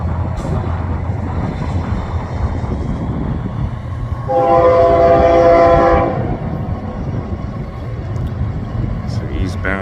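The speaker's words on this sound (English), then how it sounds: "It's an eastbound stack train." An eastbound double-stack freight train rumbles past on the Kansas subdivision, sounding a sustained multi-chime horn for about two seconds over the steady roar of wheels and cars nearby.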